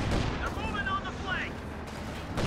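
Dense, continuous battle din from a Company of Heroes 2 match, with sustained rattling gunfire and booms blending into a steady roar, while a commentator's voice runs over it.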